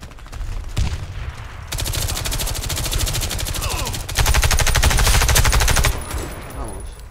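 Gunfire in the video game Warface: loud, sustained automatic bursts rattling almost nonstop, the heaviest stretch near the end, with only brief breaks between volleys.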